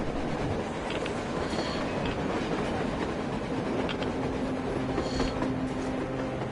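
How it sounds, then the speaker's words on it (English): A train rumbles along the surface in the video game Metro Exodus, a dense continuous roar with rattling clatter and occasional metallic clanks, loud and unbroken throughout, with no speech. "A damn train on the surface!"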